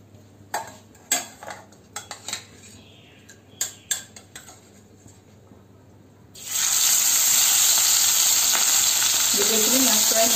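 Fish frying in a pan in a home kitchen: a few sharp knocks and clatters first, then a sudden loud, steady hiss of sizzling oil that holds to the end, with no talk.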